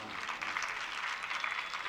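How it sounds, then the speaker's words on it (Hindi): An audience claps steadily through a devotional scripture study session, a dense, continuous patter of many hands with no voices over it. "उन्हीं के लिए ताली बजाओ।"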